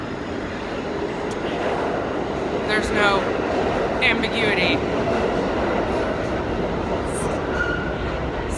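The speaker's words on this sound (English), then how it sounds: "Ooh, a train is coming." A New York subway train rumbles steadily through the station, a loud continuous roar with brief high metallic squeals midway, while a person talks over it.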